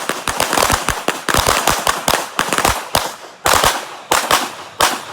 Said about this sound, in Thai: ยิงที่หัวหุ่นคนนะครับกระสุนห้านัดใช้เวลาห้าวินาที